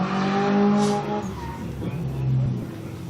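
Drift car making a run at IMI during Drift Colorado Round 4, heard as a loud engine roar with a falling pitch, then rising revs and a brief tire squeal, close and steady throughout.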